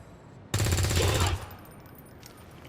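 A single weapon shot in XCOM 2 fires loud and close, a sharp crack with a short burst of rattling reverberation that fades over about a second into quiet game ambience.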